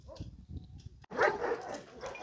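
A young black brindle female dog gives a few short barks and yips, close and fairly loud, with brief whimpering sounds between them.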